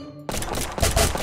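Turret gunfire in a 3D stick fight video game, a sudden loud burst of rapid shots that starts abruptly and continues as a dense, close fusillade.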